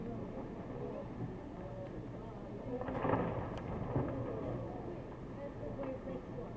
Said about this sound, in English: Oops, there's some calving happening.